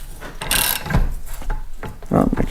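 A ratcheting expander tool being tightened and turned inside a diesel Jeep Liberty exhaust pipe, giving a run of close, loud mechanical ratchet clicks and metallic grinding with a short pause.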